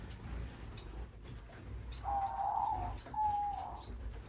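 Society finches chirp softly while feeding on lettuce, spinach and egg food, giving two short, clear calls over a faint steady background hum.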